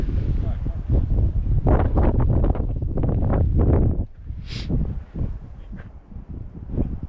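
Gusts of wind rumble and buffet the microphone, heavy at first and then easing, while a person speaks over it.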